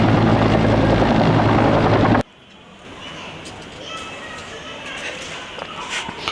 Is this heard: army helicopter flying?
yes